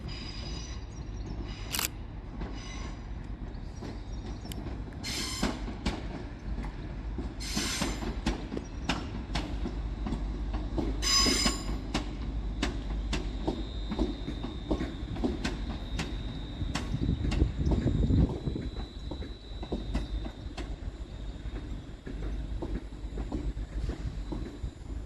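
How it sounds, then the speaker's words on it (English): A London Northwestern Railway Class 350 electric train from Birmingham New Street arrives at Crewe station, with a steady rumble of wheels, clicks over rail joints, and sharp metallic squeals and hisses as it slows, close by. "Next up, terminating with a London Northwestern Railway service off Birmingham New Street, is"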